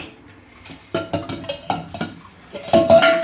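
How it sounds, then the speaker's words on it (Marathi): Metal pressure-cooker containers clank and knock against each other and a pot in a home kitchen, with a series of close, sharp clatters and a louder jumble of metallic rattling at the end. "तर त्यासाठी काढून घेऊया कुकरचे डबे वगैरे."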